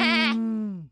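A single short, close bleat voiced by a performer imitating a sheep or goat, a bright wavering onset that settles into a steady tone and fades out.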